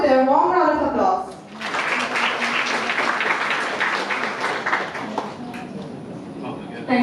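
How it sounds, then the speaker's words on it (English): Audience at an international cyber security seminar in a college hall breaks into steady applause right after a speaking voice, the clapping filling the room for several seconds before fading. "Let us all welcome her with a warm round of applause."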